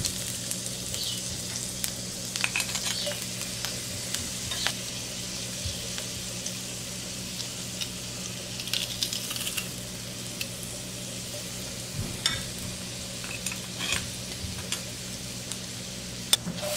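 Crushed garlic sizzling in oil in a frying pan while being stirred, a steady close hiss with occasional light scrapes and ticks of the utensil throughout.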